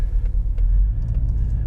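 A Porsche Cayenne engine idles just after a first-time start, a close, steady low rumble with no revving.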